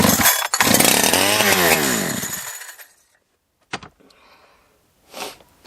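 A Holzfforma G372 chainsaw being broken in revs loudly up close, its engine pitch rising and falling before cutting out, followed by silence and a few brief clunks and handling noises.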